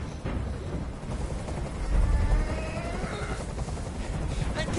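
Steady, loud rotor drone of a helicopter flying overhead, filling the whole clip with a broad rumble that swells briefly in the middle; a voice may be faintly mixed in.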